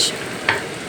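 A brief burst of boneless drumstick meat frying in oil, a steady loud sizzle with a small crackle partway through.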